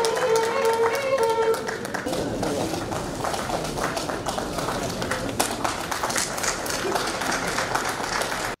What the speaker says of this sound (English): congratulated the women amid applause from the crowd